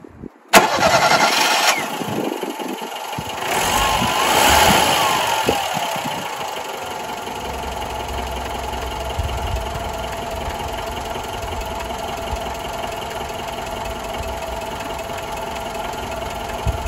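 A Ford Fiesta engine cranks and fires, then settles into a steady idle that runs on alone, close by, with no talk over it.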